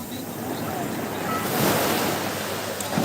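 Ocean waves roar at Cox's Bazar beach in a steady, loud wash of surf, with wind buffeting the microphone and swelling slightly near the end; no one speaks.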